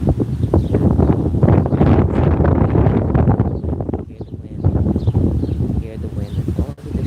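Wind blows outdoors as a loud, gusty rumble buffeting the microphone, with a brief lull midway and faint rustling around it.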